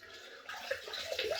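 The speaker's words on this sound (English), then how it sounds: "just excuse me while I rinse." A shaving brush is rinsed under a running tap, a soft steady splash of water with a few brief gurgles, quiet and close.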